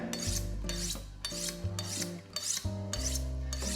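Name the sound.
sharpening a kitchen knife on a steel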